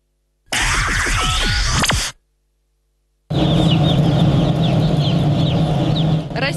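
Broiler chickens at a poultry farm, loud close clucking and squawking in two bursts separated by a short silence, the second a dense, continuous flock chorus.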